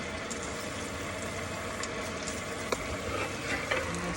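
Food deep fries in hot oil in a home kitchen, giving a steady, dense sizzle and crackle throughout with a few sharper pops near the end.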